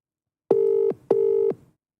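Two evenly spaced ringback tones from an outgoing phone call, each a clean steady beep lasting under half a second, heard alone against silence.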